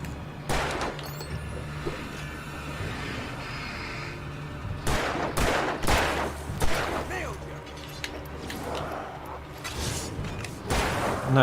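Gunfire in Alan Wake Remastered, several sharp separated shots scattered over a low background drone, with a voice talking in between.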